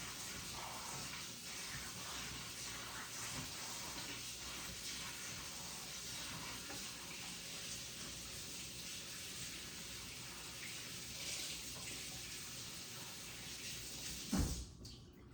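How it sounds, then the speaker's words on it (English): Tap water running steadily as a cottage cheese container is rinsed in a kitchen, a continuous soft hiss and splash ending in a brief knock. "now I'm just gonna run this under some water to rinse it off"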